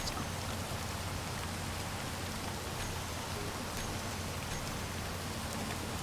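Steady heavy rain in the Space Engineers video game, a loud continuous broadband hiss of drops on surfaces throughout with no voices.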